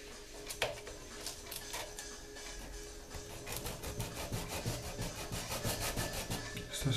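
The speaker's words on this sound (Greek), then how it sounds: "Και τρίβω" Sandpaper rubbing a wooden tone bar, steady back-and-forth scraping strokes close up that grow slightly stronger and faster toward the end, with no talk.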